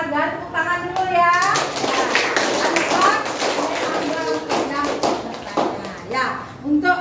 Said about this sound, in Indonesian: Ibu kasih penghargaan, tepuk tangan dulu ya.